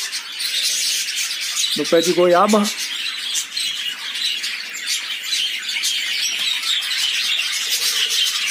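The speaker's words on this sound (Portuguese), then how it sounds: "Tem umas aves aqui de plantão, não vai dar para vocês verem direito no vídeo. Um periquito da caatinga," Cactus parakeets calling from a guava tree, a short burst of harsh squawks early on, then faint chirps over a steady outdoor hiss while someone talks.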